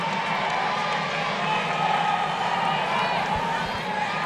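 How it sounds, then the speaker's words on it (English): Tennis crowd at the 2014 US Open final between Marin Čilić and Kei Nishikori, heard as a steady, dense roar of cheering and murmuring across a packed stadium. The noise holds even throughout, with a commentator talking over it. "Now they're cheering his mistakes."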